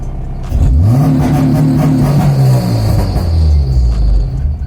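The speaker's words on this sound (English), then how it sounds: "I don't like the way my launch controls sound no more." A car engine revs up sharply on launch control and holds a steady high drone, then winds down, close and loud with no talking.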